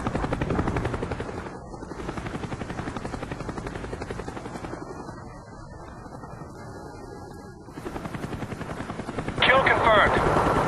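A Cobra attack helicopter in Call of Duty Black Ops thumps with loud rapid rotor chopping that continues throughout, mixed with game sounds and a voice speaking over it.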